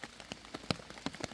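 Rain falls on an outdoor shelter at night. Close, irregular drops tap sharply over a soft, steady patter.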